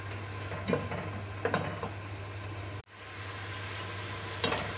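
Onions frying in a pan for Saudi kabsa give a soft, steady sizzle over a low constant hum, with a few sharper stirring scrapes and a brief dropout near the middle.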